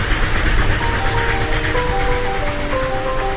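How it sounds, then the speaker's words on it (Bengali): A train runs along the tracks as a sound effect under a ghost-story narration, a continuous loud rolling clatter with steady rhythmic beats and a hissing wash over it, heard alone. "শহরের কোলাহল ছেড়ে ট্রেন ছুটতে লাগলো।"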